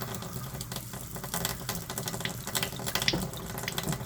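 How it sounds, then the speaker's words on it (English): Hot water mixed with pink antifreeze runs from a tap at a river house being winterized, a faint, steady splashing rush with scattered clicks and knocks in the plumbing. "There, the hot water is just finally turning pink."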